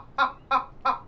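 Chickens in a barn give three short, evenly spaced clucks, close and fairly loud, with quiet pauses between them.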